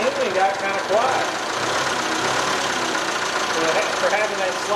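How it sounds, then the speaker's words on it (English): An old TCM forklift engine idles with a steady low rumble and an uneven, faintly knocking pulse, close to the microphone and continuous throughout, while someone talks over it. "He's idling up just a little bit."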